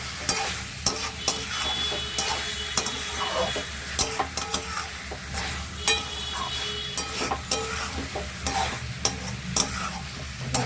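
Chicken with grated ginger is stirred in a hot pan, an even frying sizzle punctuated by frequent rhythmic spatula scrapes and clinks against the metal, no speech.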